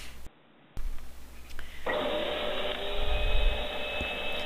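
A vacuum cleaner runs with its nozzle against the valve knob of a space saver storage bag that is not shrinking; a brief knock comes first, then a steady whining motor drone from about two seconds on.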